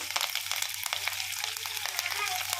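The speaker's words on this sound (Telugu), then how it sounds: "ఇలా జీలకర్ర వేస్తున్నా, కొంచెం అంతా, 1 చెంచా జీలకర్ర, కొన్ని ఎల్లిగడ్డలు వేసుకుంటున్నా" Cumin seeds and garlic cloves sizzle in hot oil in a pan, giving a soft, steady crackle with scattered pops up close.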